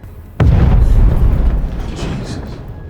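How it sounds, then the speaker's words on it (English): A sudden loud explosion in a crime film bursts in abruptly, then a heavy rumbling roar slowly fades under lingering noise. "The sudden explosion catches everyone off guard."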